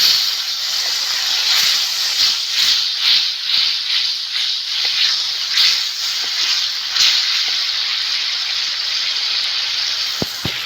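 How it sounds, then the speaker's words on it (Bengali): Water splashed into hot spice paste frying in oil for a fish curry, giving a loud, steady steamy hiss that runs unbroken for the whole stretch, with faint crackles and spits scattered through it and no voices. "মশলা থেকে তেল ছেড়ে গেছে আমি জল দিয়ে দেবো অল্প করে জল"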